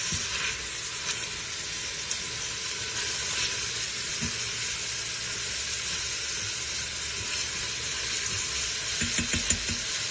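Black-eyed peas sautéing in an Instant Pot give a steady, loud, hissing sizzle for about ten seconds, with a few light scraping stirs near the end.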